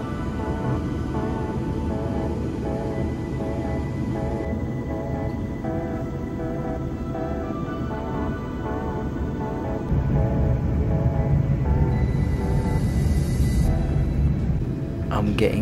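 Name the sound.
inside a moving train from Birmingham to Liverpool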